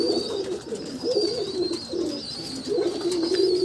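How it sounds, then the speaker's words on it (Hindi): Golden pigeons coo steadily in low, rolling repeated calls, several overlapping phrases close by with a constant background hiss and a faint high tone throughout. "गोल्डन कबूतर है बेसिकली, बहुत अच्छे कबूतर है माशाल्लाह से।"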